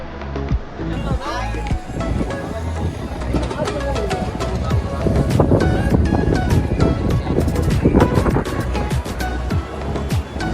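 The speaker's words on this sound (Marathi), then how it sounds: "गंगा नदी किती स्पीडला वाहते ते बघू शकता" Loud, rushing water of the fast-flowing Ganges at Haridwar churns continuously, with gusts of wind buffeting the microphone over the flow.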